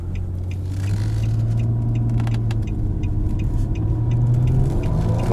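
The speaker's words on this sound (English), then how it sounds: "When we accelerate, you'll see just how quick it really is." A 2017 Nissan Maxima SV with its 3.5-litre engine accelerates from inside the cabin, a steady loud drone and rumble that rises slightly in pitch through the run, with no talking.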